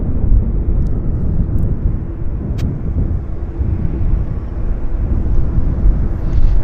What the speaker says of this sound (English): Air Canada Flight 7 taxiing for departure to Hong Kong.